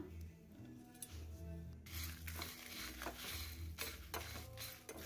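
Idli podi ingredients with asafoetida are stirred in a pan over medium flame, quiet dry scraping and shuffling with a low hum beneath, faint and close, no voices.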